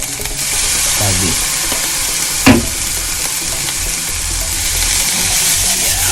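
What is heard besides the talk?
fish sauce added to sizzling egg fried rice in pan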